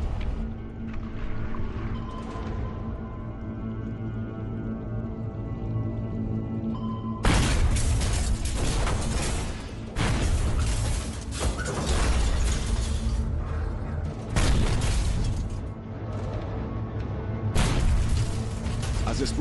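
Depth charges detonating around the submarine Silversides as a tanker escort drops eight of them astern, heavy booming blasts in a loud series with rumbling shudders between, following a quieter stretch of submerged mechanical hum.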